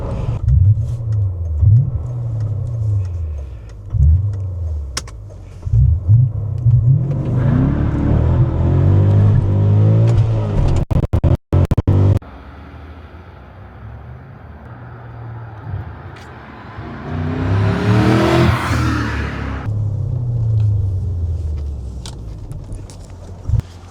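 A BMW E39 M5 V8 engine idles with a burbling rumble, then revs up several times, rising to a loud roar before settling back, recorded close by.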